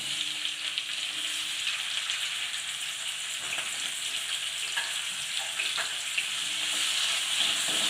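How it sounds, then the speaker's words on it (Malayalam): Onion, tomato and green chilli fry in hot coconut oil with a steady, dense sizzle that swells slightly toward the end, close and alone. "വെളിച്ചെണ്ണ ചൂടായി വന്നതിന് ശേഷം സവാള തക്കാളി പച്ചമുളക് അരിഞ്ഞു വെച്ചാൽ അതിൻ്റെ അകത്തേക്ക് ഇട്ട് കൊടുക്കാം"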